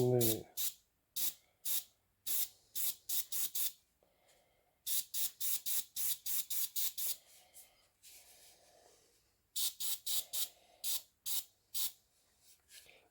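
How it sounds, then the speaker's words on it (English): Short bursts of aerosol spray paint coating a scale model of a Russian Navy Project 955 Dolgoruky submarine, repeated in quick clusters of hissing pulses with brief pauses and quiet talk between them. "Yeah, I like to spray fairly heavy."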